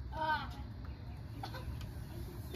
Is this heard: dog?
no